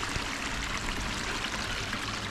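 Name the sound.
stream flowing over small dams in woods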